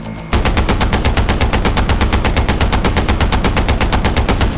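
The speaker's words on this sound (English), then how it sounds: "I kinda wanna try shooting it with this machine gun." Sustained machine gun fire in Far Cry 4, a loud, continuous rapid burst of evenly spaced shots that starts just after a brief lead-in and runs unbroken to the end, with no talking.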